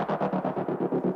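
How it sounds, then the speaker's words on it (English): A stuttering synth layer in a dark house track, auto-panned: rapid, evenly spaced chopped pulses, about eight per second, with a buzzy, distorted midrange tone and a wavering, wavy feel, alone and up close. "I just added like an auto pan or something like this on this stutter layer"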